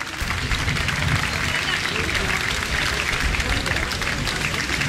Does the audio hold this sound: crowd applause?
yes